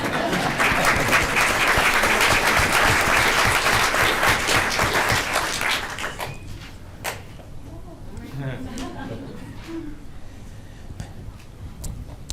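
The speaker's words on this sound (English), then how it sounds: "Now you gotta clap again" Loud, sustained applause fills a school board meeting room for around six seconds, then thins to a few scattered claps and light room noise with faint voices.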